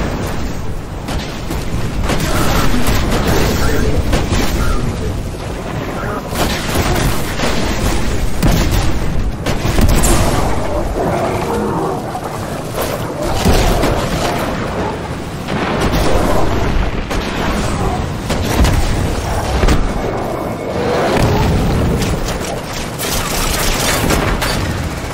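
Orbital bombardment in the video game Destiny 2, a long run of heavy booming explosions and rumbling blasts that stays loud and dense throughout, with crackling debris between the impacts.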